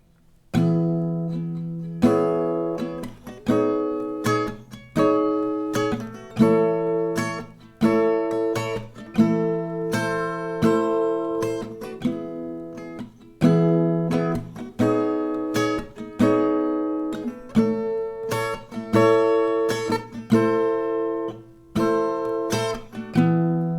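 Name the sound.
acoustic guitar chord progression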